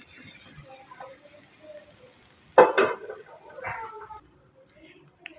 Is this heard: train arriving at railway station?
no